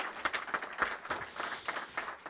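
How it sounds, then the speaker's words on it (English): Faculty audience at a USC Price School celebration in Sacramento applauding an honoree, with sparse, fairly quiet handclaps in an uneven rhythm. "I'd like a rousing hand of applause for Sterling Franklin"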